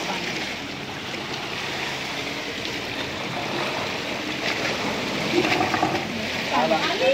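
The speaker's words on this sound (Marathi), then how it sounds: "इथून पाणी असं आतमध्ये घुसतं आणि मग असं ते पाणी याच्यातून बाहेर येतं." Sea water surging in and out of a natural rock cave spout on the coast, a steady rushing wash with a slight swell toward the end, no voices.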